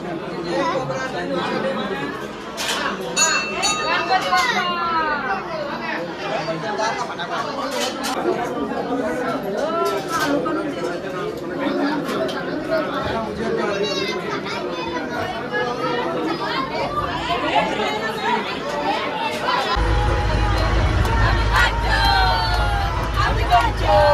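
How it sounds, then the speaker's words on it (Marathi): A dense crowd at Kartik Swami temple fills the air with continuous chatter and babble, many voices close and overlapping, with a low rumble swelling near the end. "तर गर्दी बघू शकता तुम्ही किती आहे."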